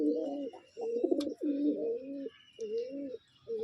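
Pigeons coo in repeated low, rolling phrases, close and clear, with brief pauses between bursts and faint higher bird chirps in the background.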